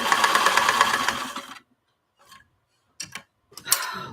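A sewing machine stitches in a rapid, steady mechanical ticking for about a second and a half, then stops, followed by a few brief clicks and short bursts as the needle is positioned.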